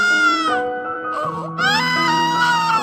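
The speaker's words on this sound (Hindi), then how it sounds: "दोनों बच्चियां जोर जोर से रो रही थीं।" Two cartoon newborn baby girls crying loudly, high wailing cries that overlap and rise in pitch, close and continuous with a short dip in the middle.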